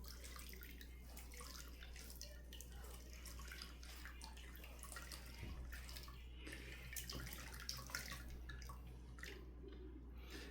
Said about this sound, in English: I'm juicing half of my coconut milk right here